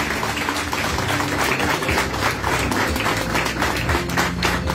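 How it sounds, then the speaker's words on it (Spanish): An audience at a graduation ceremony of the Instituto Oficial San Buenaventura in Honduras breaks into dense, sustained applause, many hands clapping loud and steady throughout with no voices on top. "Bien, aplausos"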